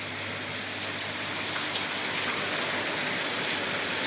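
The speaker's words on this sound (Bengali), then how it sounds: "আর এখন খুব জোরে বৃষ্টি নামিয়েছে" Heavy rain pours down in a dense, steady hiss, close and constant, with no voices.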